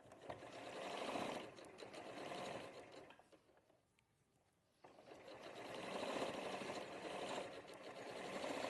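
A sewing machine stitches a quilt block in quiet, steady whirring runs that pause for a couple of seconds in the middle and then resume at the same even pace.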